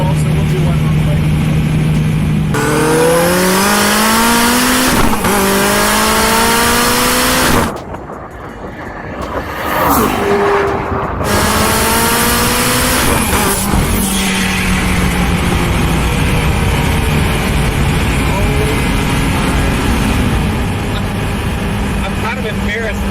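An SSC Tuatara hypercar pulls hard at full power, loud and close, its engine note climbing through repeated sweeping rises with a brief gear-change break and short dropout midway before it surges again.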